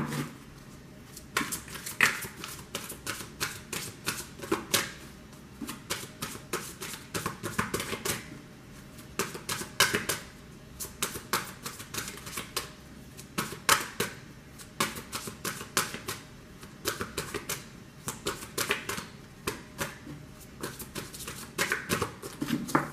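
Tarot cards shuffled by hand, a long run of quick, dry riffling and tapping bursts that repeat irregularly at close range, with no talk over them.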